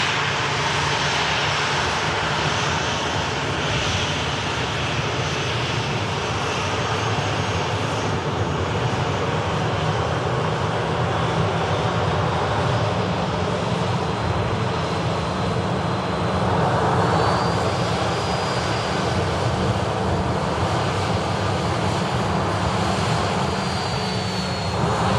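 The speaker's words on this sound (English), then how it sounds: "Norwegian 73 taxiing off." A Norwegian airliner, flight 73, taxis with a steady, loud engine roar that holds throughout and swells slightly partway through, with no voices over it.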